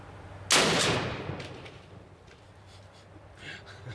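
A single loud .50 caliber rifle shot fired at close range into three-layer bulletproof glass, a sharp blast at about half a second that rings out and decays, followed by faint scattered noise.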